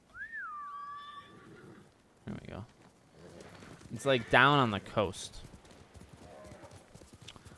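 A horse in the video game Ghost of Tsushima gives a loud, wavering neigh close up, followed by a few hoof clip-clops, while someone talks over it.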